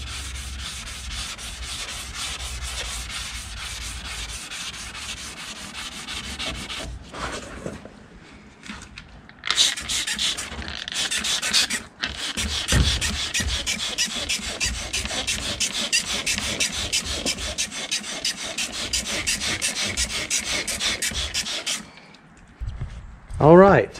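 Gel coat is wet sanded by hand with a sanding block, giving a steady, close rasping rub in long continuous strokes that stop briefly and then resume.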